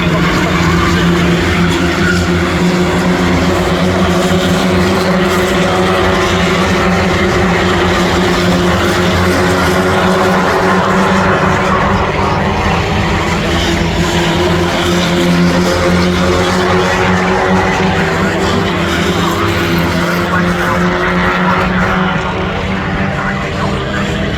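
Race cars, including Radicals, MX5s, saloons and GTs, at Castle Combe circuit near Tower Corner, their engines in a loud, sustained roar for the whole stretch with layered revving tones as cars pass; a commentator talks over it.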